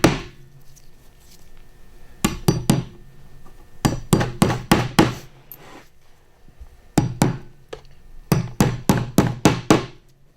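Hammer blows drive nails while stretching a beaver pelt, sharp close strikes in quick bursts of three to five with short pauses between groups.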